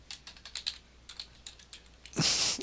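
Computer keyboard typing of short data labels into a spreadsheet for a climograph, with close, rapid irregular clicks over a faint hiss, ending in a louder, brief rushing burst.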